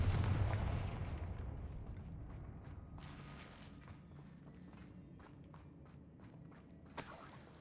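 A booming blast-spell explosion in a video game, a heavy low burst at the start that decays into rumbling debris, followed by scattered thuds, creaks and a sharp crack near the end.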